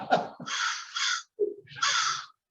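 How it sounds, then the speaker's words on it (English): Loud, close crow caws ring out in a backyard, two long harsh calls separated by a short gap, with a brief softer sound between them. "And I have a crow in the backyard."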